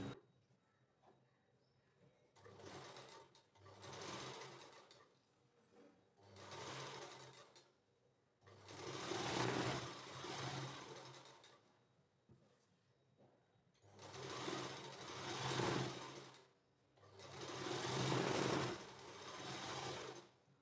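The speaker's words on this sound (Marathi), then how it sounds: "बॉटमला काठावरती टीप टाकून घेतली आपण, बघू शकता अशा पद्धतीने टीप टाकून घ्यायची आहे।" A sewing machine stitches the bottom border hem of a nauvari saree in repeated bursts of rapid, whirring stitching separated by short quiet pauses, heard close and alone.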